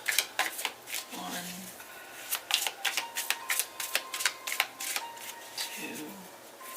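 Tarot cards are shuffled by hand in a quick run of crisp riffles and taps, close and fairly quiet, with a soft voice briefly heard.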